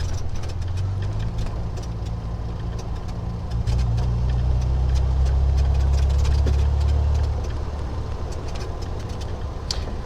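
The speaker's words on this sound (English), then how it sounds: "I'm going to see if I can just drive and loop you round" A car drives along a country road in Suffolk, a steady interior engine drone with low rumble that swells in the middle as the car accelerates, then settles back, heard close and alone.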